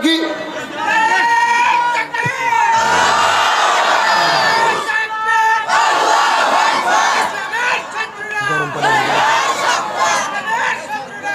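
A large crowd at a political rally in Bangladesh shouts slogans in loud, overlapping call-and-response bursts, with one voice leading and many voices answering in chorus.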